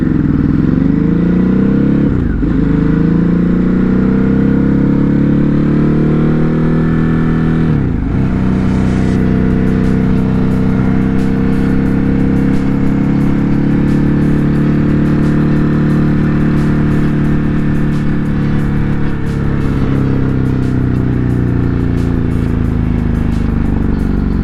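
A Ducati Hypermotard 950 RVE rides through city traffic. Its loud, close engine revs up and drops through several gear changes, rising and falling with brief throttle bursts and a steady throaty drone.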